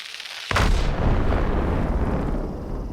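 A sudden loud grenade blast in the video game Metaphor: ReFantazio erupts after a moment of quiet, then a dense rolling rumble of further explosions that slowly tails off.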